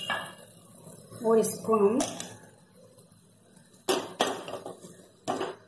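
Poha chiwda being tossed gently in a pan with a spoon for a Diwali snack, giving scattered clinks and scrapes of metal on the pan in short bursts beneath a woman's speech.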